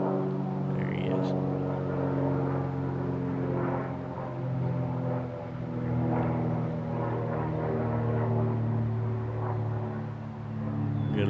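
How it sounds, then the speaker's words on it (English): A small propeller airplane passes overhead with a steady droning hum that swells and eases gently over several seconds, moderately loud and heard outdoors without talk. "Good looking little airplane there."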